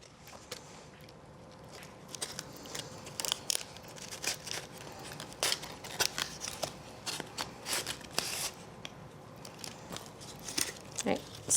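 Scissors snip through cardboard pieces being cut for a model hill, a string of sharp, irregular crunching cuts close by with small rustles between them.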